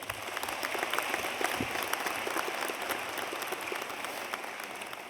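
Graduation audience at a university commencement ceremony in Qatar applauding the stage party and faculty: steady, full crowd clapping with a few sharper claps standing out, sustained at even loudness from start to end.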